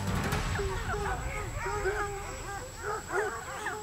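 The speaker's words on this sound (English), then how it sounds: "Dogs are getting closer." Several tracking dogs bay and yelp in a wooded Appalachian setting, overlapping howls and barks at moderate distance, repeating irregularly over a low background noise while a person speaks.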